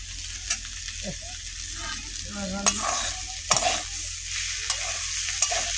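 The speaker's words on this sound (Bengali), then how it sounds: "কুঁদলি ভাজা হয়ে গেছে" Ivy gourd frying in a pan, a steady close sizzle and crackle running throughout with a few sharp scrapes of stirring; no one talks.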